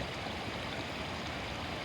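A river beside a forest path rushes in a continuous, full, even flow, with dense watery noise close by and no other sounds.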